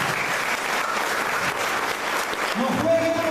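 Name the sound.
congregation applauding in church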